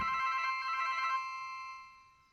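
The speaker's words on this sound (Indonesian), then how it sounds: "Mengganggu sekali ini telepon." A telephone rings with a bright, trilling electronic tone that breaks off and then fades away, faint and heard alone without speech.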